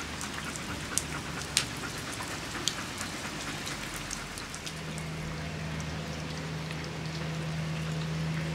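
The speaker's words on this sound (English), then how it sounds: "That's raining big time, mate. That's a lot of rain." Heavy rain falls outdoors in a steady dense wash, with occasional sharper drops and taps standing out, alone with no voices.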